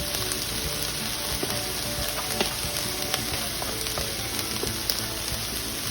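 Eggs folded in like an omelet fry steadily in a pan for a breakfast dish, a dense close sizzle with scattered crackles and pops running unbroken throughout, with no voices.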